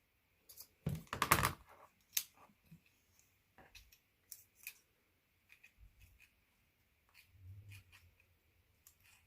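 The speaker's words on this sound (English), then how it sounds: "I think I might cut these smaller." Scissors snipping paper pieces smaller for an autumn smile jar craft, a few quiet crisp cuts and rustles in close, sparse bursts with pauses between.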